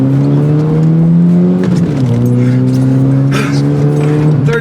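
Chevrolet S-10 pickup engine with a new muffler revving loudly up close, its deep droning pitch rising, dipping briefly, then holding steady and climbing again.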